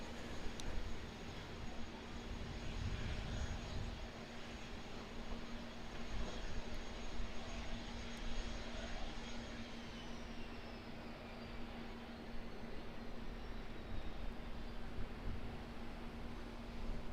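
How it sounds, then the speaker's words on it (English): A jet airliner on final approach to Auckland Airport makes a faint, steady engine rumble and whine, distant and continuous, with a thin high tone slowly drifting downward partway through. "We've got another aircraft on finals."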